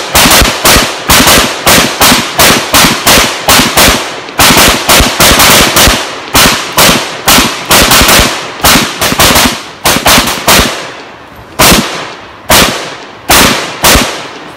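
A Kalashnikov AK-47 Mini Draco pistol-rifle fires loud, sharp shots, about two dozen in all: quick strings of rounds at first, then more widely spaced single shots toward the end.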